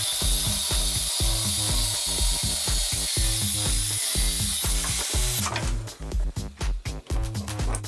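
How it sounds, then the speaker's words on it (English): Angle grinder cutting off a piece of metal on a home workshop build: loud, close, sustained hissing whine over a pulsing mechanical rhythm, which breaks into choppy bursts as the cut ends. "Now I will take the grinder and cut off the desired part."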